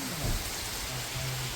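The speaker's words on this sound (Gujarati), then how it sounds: "વરસાદ શરૂ છે ખૂબ" Steady broadband hiss of heavy rain pouring down on a farm field, continuous and fairly loud, with a faint low rumble underneath and no voices.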